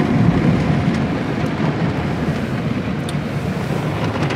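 Soap spraying onto a car inside a Sonny's car wash tunnel at Mister Car Wash in West Jordan, Utah, a dense, continuous rushing spatter of liquid close by, steady and without pauses.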